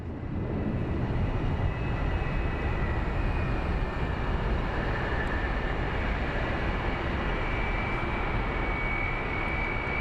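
A KC-135 tanker's engines spinning up at an airport, a loud, continuous broadband roar with a faint rising whine on top, steady throughout and heard from a distance.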